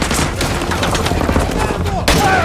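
Dense, continuous gunfire from Call of Duty Modern Warfare 2 Remastered, with loud overlapping shots packed tightly together and a sharp fresh burst near the end.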